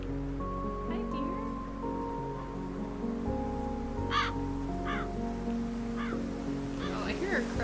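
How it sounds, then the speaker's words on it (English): A crow caws a few times in the Calico video game, short bursts over a steady soft ambient game score with a light rain-like hiss. "Oh, I hear a crow."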